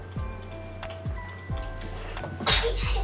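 A single sharp sneeze bursts out near the end, following a few seconds of quiet ticking and small taps in a room where Christmas ornaments are being crafted.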